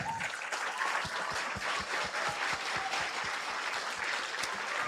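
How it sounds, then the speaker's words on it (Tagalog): A congregation at a church worship service claps in a steady, fairly quiet burst of individual hand claps, evenly spread and without talk. "Pwede ba natin palakpakan si God? Yung palakpak ng may reverence."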